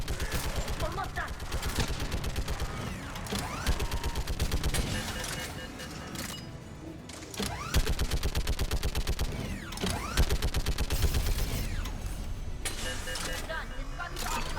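Sustained automatic fire from a gun turret in Mass Effect 3, a dense rattling fusillade of rapid shots with mechanical clanks, continuing loud and close through the whole stretch with brief dips between bursts, over game ambience.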